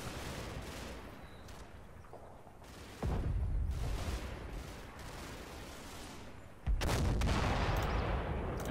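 Gunfire and artillery in the World War II Normandy video game Combat Mission Battle for Normandy: dense crackling rifle and machine-gun fire with two heavy booming impacts, all at moderate distance.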